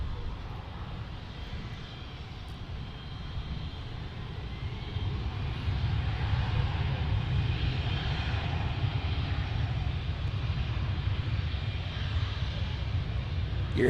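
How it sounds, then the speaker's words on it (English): A UPS Airbus A300 inbound from Colombia arrives at DFW airport with a steady, distant jet roar that swells gradually in loudness over the span. "UPS A300 about to arrive from Colombia"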